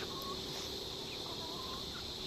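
Native chicks cheep and cluck faintly in a farm pen after release, a few brief soft calls over steady background noise with no voices.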